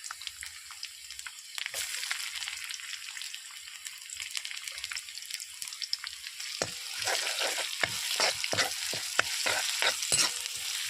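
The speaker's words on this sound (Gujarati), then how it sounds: "લસણ તો થઈ ગયું છે હવે ડુંગળી અંદર નાખી દો" Garlic and then onions frying in a pan: a steady close sizzle with crackling pops, growing busier and more spattery as stirring scrapes join in, no voices over it.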